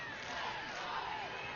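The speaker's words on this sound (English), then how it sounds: "Muskegon crowd getting into it a little bit." A Muskegon high school football crowd rises in a brief, distant swell of cheering and shouting from the stands during a night game, muffled and steady for a moment.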